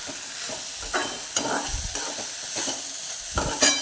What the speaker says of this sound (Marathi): परत हे हलवायचं